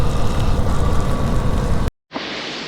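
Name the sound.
heavy rain during a motorcycle ride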